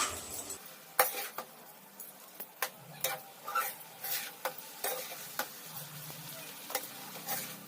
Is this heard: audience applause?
no